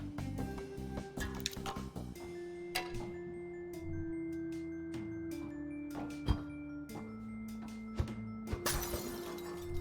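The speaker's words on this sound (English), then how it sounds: "this is the last time I'm ever smashing light bulbs" Light bulbs being smashed in a video game, a run of sharp glassy shatters and ticking hits over sustained tonal game music, with louder breaks near the end.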